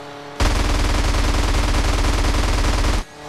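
A powerful aircraft gun in GTA San Andreas fires one sustained, rapid automatic burst lasting a few seconds, loud and close, cutting off abruptly with no talk over it.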